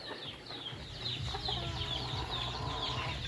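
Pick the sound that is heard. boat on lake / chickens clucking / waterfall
chickens clucking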